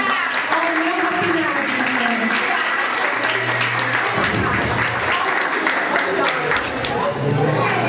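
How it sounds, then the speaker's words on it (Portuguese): Sustained applause from a large crowd at a wedding, dense clapping throughout with voices talking and chattering underneath. "Uma salva de palmas."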